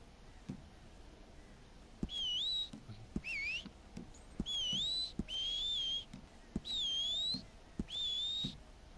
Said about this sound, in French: Sifflement.